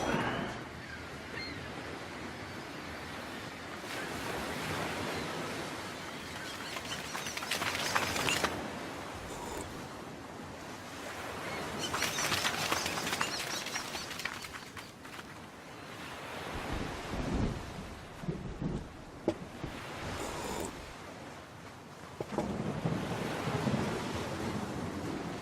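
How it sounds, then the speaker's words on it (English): Stormy weather in the Sabbatical Beach Paradise level of a game. Waves roll and wind roars in continuous surging swells, with louder bursts rising and falling throughout and no voices. "Sounds very stormy."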